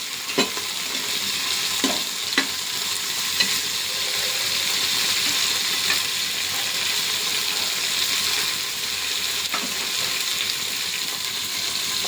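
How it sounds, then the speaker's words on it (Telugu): Soaked chickpeas frying in a pan give a steady, close hiss of sizzling oil, broken now and then by sharp scraping clicks from stirring, with no voices. "వాటిని బాగా లైట్గా ఫ్రై అయ్యే వరకు బాగా ఫ్రై చేద్దాం."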